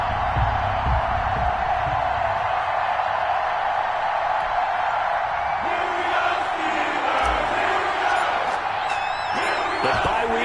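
Stadium crowd roars and cheers continuously at an NFL matchup between the New York Jets and Pittsburgh Steelers in a PS4 football video game, a dense steady wash of noise with occasional whoops and thuds.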